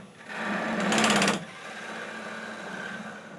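Wood lathe spinning a gnarly ash burl while carbide tools shape the outside, giving a steady close rotational whir with a brief louder rattling burst of cutting in the first seconds, then settling into an even hum.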